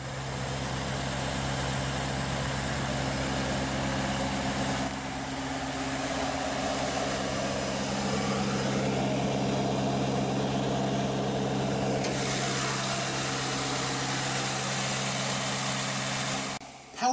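A 2020 Ford F-250 Super Duty XL with a third-generation PowerStroke 6.7-liter turbo diesel V8 idles close by, a steady deep rumble with low droning tones holding evenly for the whole stretch.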